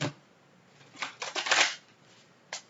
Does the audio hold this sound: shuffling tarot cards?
yes